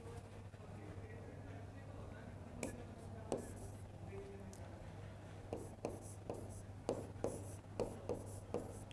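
Marker or chalk writing on a board during a university lecture on RLHF, heard as a series of short, sharp scratchy taps and strokes over a steady low room hum, moderately close, with no speech over it.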